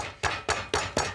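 Heavy pestle thudding down on trimmed lemongrass stalks in a kitchen, four firm, evenly spaced blows, each a sharp strike decaying quickly, close and fairly quiet.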